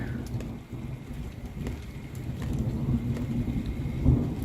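Steady rain falls in Arizona as a dense, even hiss with a faint low rumble beneath it, with no voices present.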